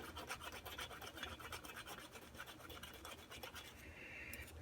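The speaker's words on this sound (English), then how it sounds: "Oh yeah, it's very rough from corrosion. So we'll gently sand that down." Sandpaper rasps steadily against a corroded metal part of a 74-year-old miniature steam engine, a close, rhythmic dry scratching of repeated short strokes with no talking.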